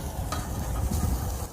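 Food sizzles steadily in a frying pan at a campsite, a close, continuous crackle with a few soft stirring scrapes and no talking.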